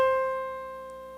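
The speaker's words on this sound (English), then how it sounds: "Now 528 hertz, if we had that up here, it would sound like this." A pure 528 hertz tone rings out alone, clear and steady with faint overtones, fading slightly over about a second.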